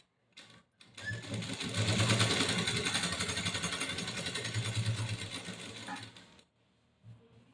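Sewing machine stitching along the edge of a saree, a steady close whirring run of needle strokes that swells and holds for several seconds before stopping, with a short burst after a pause.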